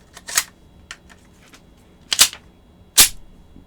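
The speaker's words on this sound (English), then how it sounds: "Loads into the chamber just fine." Dummy rounds cycling into the chamber of a Walther P1 pistol: three sharp metallic clacks, the first and second in short doubled bursts, the last a single crisp snap, close up with quiet pauses between.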